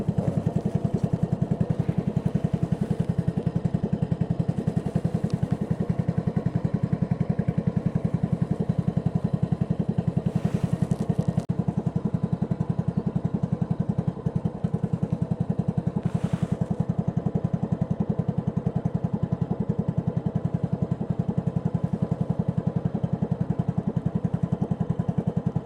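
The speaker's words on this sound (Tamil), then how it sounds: "இந்த போட் பேர் வந்து லாங் டெயில் போட். ஏன் லாங் டெயில் போட்னால் இதோட மிஷின் வந்து பின்னாடி இருக்கும்" A long-tail boat's rear-mounted engine drones steadily and loudly throughout a ride on the water at Thale Noi in Phatthalung, a constant rattling hum with no talk over it.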